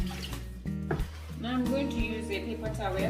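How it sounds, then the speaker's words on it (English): Water is poured off boiled potatoes, splashing and running into a sink in a home kitchen, a steady pour under a voice speaking throughout. "We're gonna drain all the water from the potatoes."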